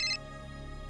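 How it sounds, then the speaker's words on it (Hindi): Brief electronic phone ringtone at a family home at night, a short bright tone burst that stops quickly, leaving a quiet room hum. "इस वक्त किसका फोन है?"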